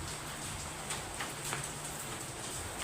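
Light rain falls steadily as a soft, even hiss with scattered faint ticks of drops hitting a surface, quiet and continuous with no voices.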